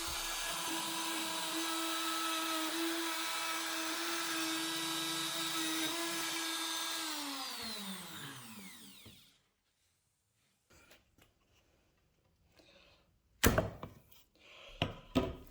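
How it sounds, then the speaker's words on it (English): A router with a templating bit cuts recesses in wood, a steady loud high whine for several seconds before spinning down to silence, followed by a few faint knocks and clatters. "Then, using a template and a templating bit, I clean up the recesses."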